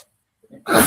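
A single close sneeze bursts out abruptly after a brief quiet inhale, sharp and loud at the end.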